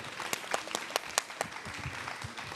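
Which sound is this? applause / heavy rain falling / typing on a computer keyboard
applause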